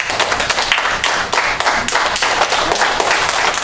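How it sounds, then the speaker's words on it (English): Hands clapping during a core strength exercise class, a loud, close, continuous run of rapid claps that sounds like several people clapping together. "And actually, pretty incredible to clap."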